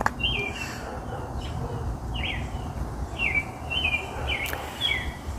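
Songbirds chirp in a backyard on a cloudy day, a string of short bright calls repeating every second or so over a steady low outdoor rumble.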